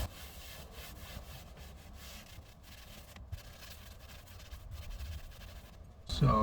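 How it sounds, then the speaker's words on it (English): A white cloth buffs a leather car seat, giving a soft, continuous rubbing and swishing at low volume that grows slightly louder near the end. "we'll just go ahead and buff the seat using the white cloth"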